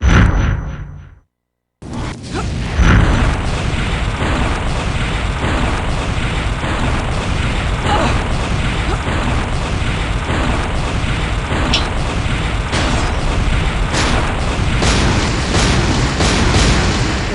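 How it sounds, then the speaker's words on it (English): A stream of fireballs from a trap in a hallway of a fantasy video game roars continuously, a loud dense whooshing rumble with repeated bursting pops after a brief silent gap at the start. "A stream of fireballs prevents anyone from going further."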